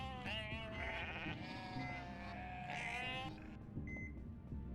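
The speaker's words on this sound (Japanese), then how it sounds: "力強いヤギの鳴き声一つありますね。" A strong, wavering goat bleat from the video game UnMetal, close and loud, followed by a short electronic beep.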